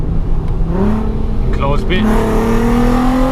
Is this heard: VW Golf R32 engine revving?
yes